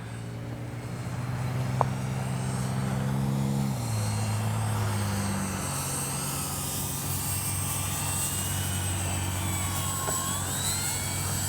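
X-Fly Spitfire RC warbird model with gear and landing flaps down, flying in to land: a steady droning electric motor hum that drops in pitch partway through, then carries on evenly, loud and close.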